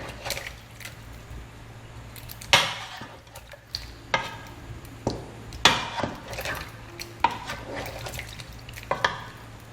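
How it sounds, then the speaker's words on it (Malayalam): A mango curry with added water is stirred in a pot, the spoon giving irregular scrapes and sharp clinks against the sides over a low liquid background, close and with no voices. "നമുക്കിതൊന്ന് നന്നായിട്ട് മിക്സ് ചെയ്ത് കൊടുക്കാം."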